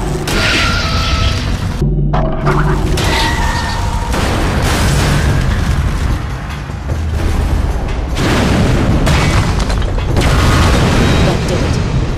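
A loud fuse panel explosion in the stealth game Mark of the Ninja, booming bursts and rumbling crashes over dense mechanical clatter and a game soundscape, with someone talking during parts of it.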